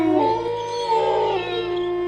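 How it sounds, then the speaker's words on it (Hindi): Jackals howl from a distant forest, with long wavering, sliding tones that rise and fall together in a sustained chorus, fairly loud and with no talk. "दूर जंगल से आती सियार की रहस्यमयी आवाजें"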